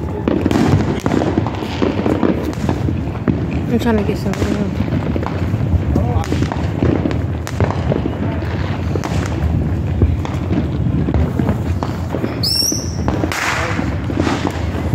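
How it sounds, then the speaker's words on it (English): Fourth of July fireworks bursting overhead in a dense, continuous barrage, with booms and crackles overlapping throughout and a brief whistling streak near the end; a person speaks briefly nearby. "They got so many fireworks"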